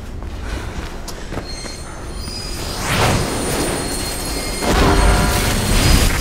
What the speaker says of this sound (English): train coming behind you.